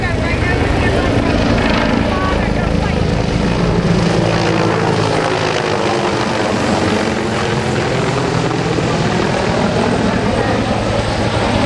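Military helicopters departing en masse at Rotorfest 2010, a loud continuous rotor and turbine roar with pulsing blade chop that swells and shifts as the aircraft pass, with a voice talking under the noise.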